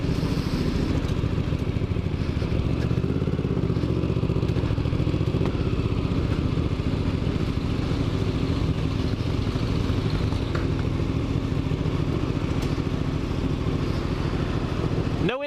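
A 1988 Honda VFR motorcycle engine runs close by at a steady, loud idle with a rapid even pulse and mechanical clatter, then cuts off abruptly at the end.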